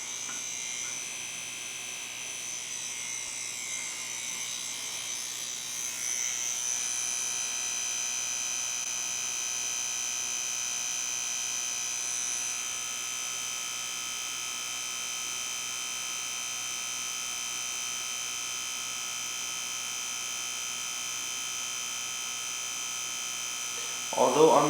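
A tattoo machine buzzes in a steady, close electric whine while fingerprints are tattooed, holding a constant pitch with slight swells as the needle works, and a brief voice cuts in at the very end.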